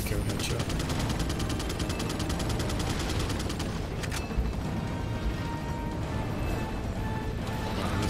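Minigun fire from Resident Evil 4 roars as a loud, sustained stream of rapid automatic shots under game noise, with a brief break midway before the firing resumes.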